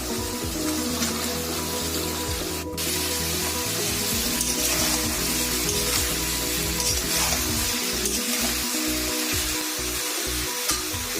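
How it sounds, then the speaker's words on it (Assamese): Chicken with spring onions fries in a pan over low heat, a loud, close, unbroken sizzle and crackle of oil and moisture that carries on steadily from start to end without any talking. "এতিয়া কম জুইত লাৰি লাৰি ভাজিম"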